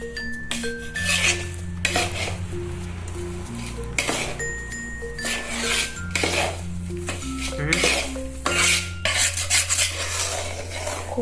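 Adadiya mixture with 1.5 kg of sugar being stirred in a metal pan, a steady run of scraping and clattering spoon-on-pan strokes close up, with tonal background music underneath and no talking.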